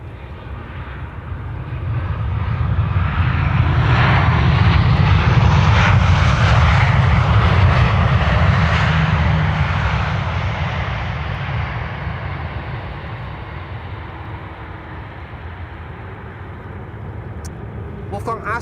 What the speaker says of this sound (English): this is one of the many 737s from Transavia.